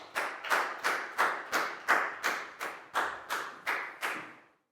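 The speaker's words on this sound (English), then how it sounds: "Big round of applause for Prel, please, guys." A class of young schoolchildren claps in the steady unison rhythm of a round of applause, with about a dozen crisp, evenly spaced claps that stop cleanly.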